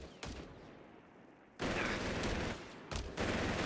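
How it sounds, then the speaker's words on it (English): A Panzer IV tank's machine gun firing in Company of Heroes 3, a short early crack followed by two sustained loud bursts of rapid fire separated by a brief gap. "Even sounds like the machine gun from the Panzer IV now"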